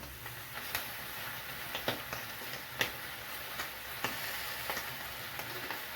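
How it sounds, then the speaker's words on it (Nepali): Water snails fry in a pan with a low steady sizzle, punctuated by scattered faint pops and ticks at irregular intervals. "एकैछिन भुट्दाखेरि यो एउटा आवाज आउँछ पट पट पट पट पड्केको"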